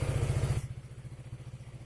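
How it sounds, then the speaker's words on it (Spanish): A KTM Duke 200 motorcycle engine fires up loudly with a rapid, pulsing beat, then settles into a steady, quieter single-cylinder idle thumping close by. "Abrimos el switch, prendemos la moto."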